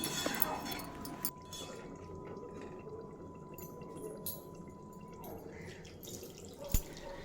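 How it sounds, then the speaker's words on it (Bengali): Water pours into a pan of mixed vegetable curry already cooked down with poppy-seed paste, a soft, faint splashing and dripping over a steady low kitchen hum. "এবার এড করে দেব পরিমাণ মতো জল"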